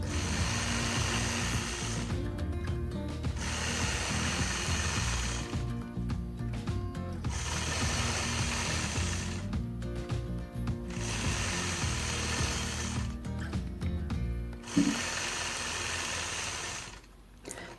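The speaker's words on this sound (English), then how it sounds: "Now I'm going to repeat that process, stitching point to point lines." A sewing machine stitches point-to-point quilting lines on a quilt block, running loud and steady in four long bursts separated by brief pauses, with no talking.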